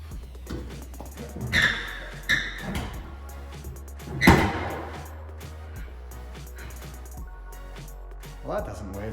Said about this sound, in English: we gotta rip out the interior.